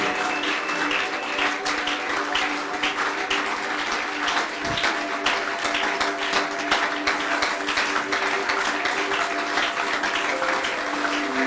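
A church congregation applauding during a service, sustained dense clapping throughout at full volume, with a steady tone and faint voices underneath.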